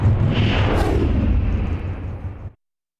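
Fireworks going off at a night celebration for a USL Championship soccer home opener, a loud continuous crackling barrage of booms and bursts that holds steady for about two and a half seconds before cutting off abruptly.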